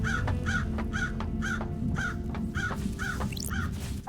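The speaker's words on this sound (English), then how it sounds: "Shut up, birds!" Crows cawing in the video game Paradise Killer: a steady series of about seven harsh, evenly spaced caws over a dense ambient background, with a brief rising chirp near the end.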